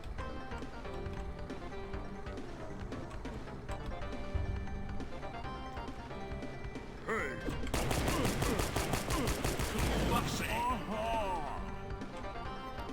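Rapid gunfire bursts from the video game Fashion Police Squad, loud and dense in the second half over game music, with a voice speaking earlier.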